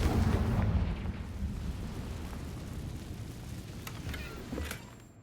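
A Confringo blast spell from the Hogwarts Legacy video game erupts with a loud booming burst, then a rumbling, crackling tail that fades and swells again with a few sharp pops.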